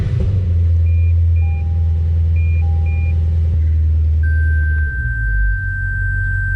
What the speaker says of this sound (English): You're gonna start the car and shift to every gear 5 seconds each.